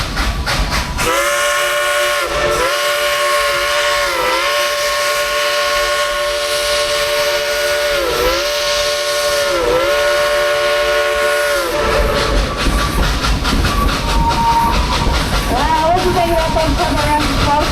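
Steam whistle of the Klondike Katie locomotive at Dollywood theme park, sounding in a string of long, loud blasts with brief breaks, then giving way to a noisy crowd as applause and voices rise.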